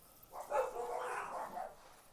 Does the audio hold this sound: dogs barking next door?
yes